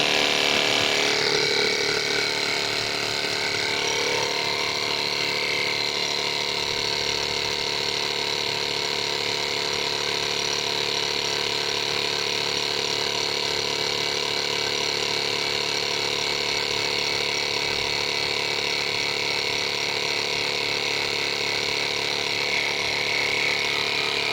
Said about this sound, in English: Once I did that, I'm going to turn on the compressor.